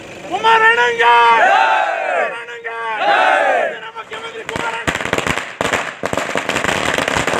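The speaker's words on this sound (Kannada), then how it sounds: "ಪಟಾಕಿ ಸಿಡಿಸಿ ಸ್ವಾಗತಿಸಿದರು" Firecrackers burst in welcome at a village political gathering, a rapid string of sharp cracks following loud cheering and shouting from a crowd; the bangs come in dense clusters near the end.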